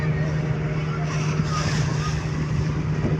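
A speedboat engine drones steadily at a river crossing, a constant close roar with wind noise and no clear break throughout.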